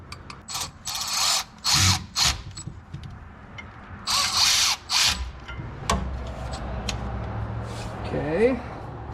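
A power tool drives bolts into a plate during fuel-system work on a 1986 Trans Am, giving several short, loud bursts of whirring and rattling with pauses between them, followed by lighter metallic clicks, while someone talks in between.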